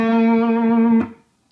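A single hard-picked electric guitar note or chord through an overdrive pedal rings loud and sustained for about a second, rich in harmonics, then cuts off abruptly into near silence before a faint new attack.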